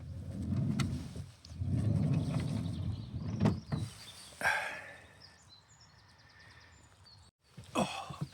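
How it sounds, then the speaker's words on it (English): Doors on a small campervan being opened on a frosty morning, with rustling and handling, a sharp latch clunk, then sliding and banging door sounds, all close up. "So I'm going to go and open the doors."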